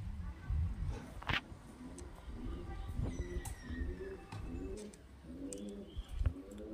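Highflyer pigeons, a pair tethered on a stand at a pigeon seller's, coo in repeated low throaty phrases close by, with some faint chirps and soft rustling around them.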